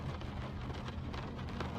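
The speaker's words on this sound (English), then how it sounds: "the rain continues" Night rain falls steadily on a cozy cat boarding house, a soft, continuous hiss with faint patter and no talking.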